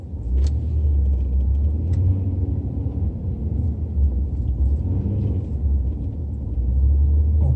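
A car climbs a steep, narrow hill road, its engine and tyre rumble a steady, loud low drone throughout, with a few faint rattles on top and no talk.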